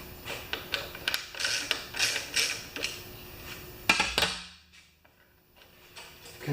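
A 10 mm wrench turns bolts on a Honda carburetor, making a run of close, rhythmic ratcheting clicks in quick bursts, then a sharper clatter before fading to near silence.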